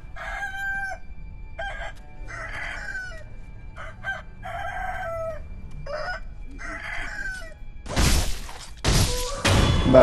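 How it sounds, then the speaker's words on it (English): In the video game Sekiro: Shadows Die Twice, a chicken gives a run of repeated clucks and crowing calls up close, followed by loud crashing impacts at the end. "Chicken is seeing me."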